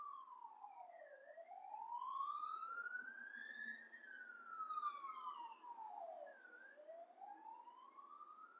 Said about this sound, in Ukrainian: тут у мене швидка за вікном